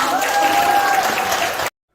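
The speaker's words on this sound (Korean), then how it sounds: "박수 한번 주세요" Audience applause after a talk, a full sustained wash of many clapping hands with a faint voice over it, cutting off abruptly into silence near the end.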